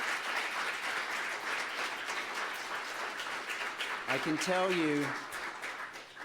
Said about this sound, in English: I think they deserve a round of applause for their efforts.